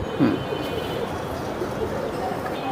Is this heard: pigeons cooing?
yes